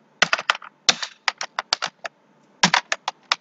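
Router configuration commands being typed on a computer keyboard, heard as close, crisp key clicks in quick uneven bursts with a short pause in the middle, no voices.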